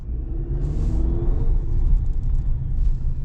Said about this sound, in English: It sounds like a little small, very small turbo spooling up.